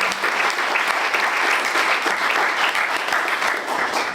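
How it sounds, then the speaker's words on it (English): A room at an Ironman Hawaii 2022 press conference fills with steady, dense clapping that holds at an even level throughout, with no voices over it. "Give him a big round of applause."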